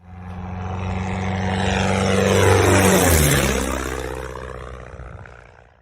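A six-second stinger on a flying livestream: a propeller aircraft sweeps past, its droning engine rising to a loud close pass near the middle, the pitch falling as it fades away, with no voices.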